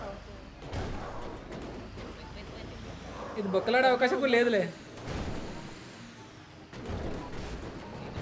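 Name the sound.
vehicle explosions in video game GTA 5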